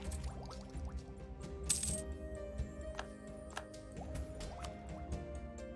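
A bright metallic coin clink rings out once, clearly over steady background music and soft dripping clicks in the strategy game Europa Universalis IV.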